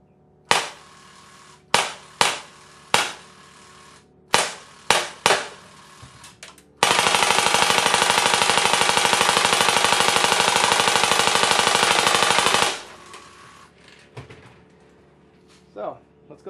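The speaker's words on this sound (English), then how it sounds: "We're going to shoot at these bottles down here" Drozd Blackbird BB gun shooting at bottles in a garage: several sharp single shots, then a sustained rapid-fire burst lasting about six seconds, followed by a few more isolated cracks, fairly close and loud.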